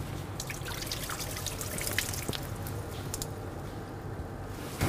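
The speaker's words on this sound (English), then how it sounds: "I'm going to drain some of this water from the lotus root." Water trickles and dribbles steadily as it drains from sliced lotus root in a kitchen, with faint drips and splashes throughout, close by and moderately quiet.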